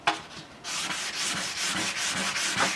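Oil finish is rubbed by hand onto a limba wood OM guitar body in quick, regular back-and-forth strokes, each a soft, close scuffing swish repeating steadily.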